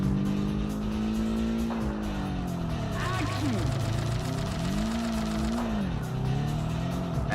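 In the video game Kaido Racer, a race car engine revs and rises in pitch and falls again as the car drifts through corners with the e-brake, with brief tire squeals mixed in, under continuous talking.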